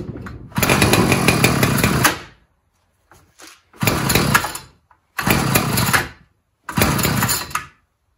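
A broken gas-powered string trimmer engine fires up four times, running loudly for a second or two each time before cutting out into silence, with a few faint clicks between attempts.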